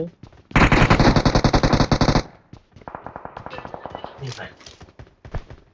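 Bursts of automatic gunfire in the video game PUBG Mobile: a dense rapid volley, then a sparser string of quicker, lighter shots and scattered single cracks, loud and close.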